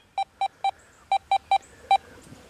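A series of short, identical electronic beeps from a Deus 2 metal detector target tone, seven in total, arriving in an uneven rhythm, clear and close.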